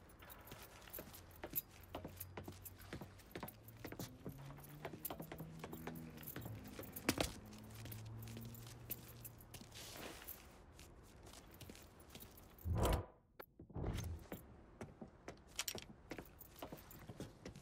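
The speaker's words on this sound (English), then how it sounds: "Hey man, grab those keys." Keys jangle in the Mafia III video game, rattling in a short burst among footsteps and mechanical handling noises, with a louder clatter near the end.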